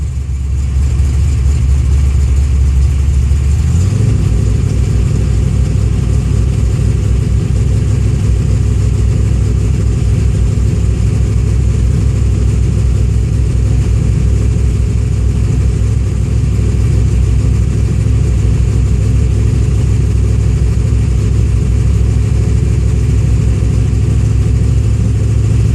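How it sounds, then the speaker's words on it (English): A car engine rises from idle into a steady, loud, sustained rev as gas is applied, holding a heavy continuous drone close by with no talking. "I'm going to attempt to give it a little bit of gas."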